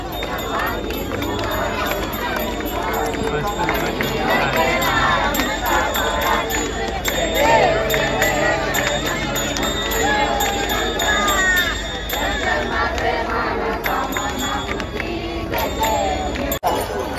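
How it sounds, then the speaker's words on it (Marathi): A large, dense crowd gathers at Ganesh Ghat for the Ganpati immersion on Anant Chaturdashi, a constant close babble of many voices with scattered shouts and occasional clinks, loud and unbroken throughout. "भरपूर अशी गर्दी आहे गणेश घाटामध्ये।"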